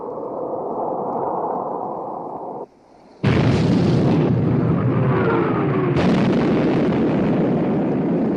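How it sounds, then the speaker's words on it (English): A torpedo strikes a warship amidships in a 1960 naval war film: after a low steady engine rumble, a sudden loud, deep blast erupts, followed by a sustained roaring, crackling aftermath. "Torpedo hit amidship, sir."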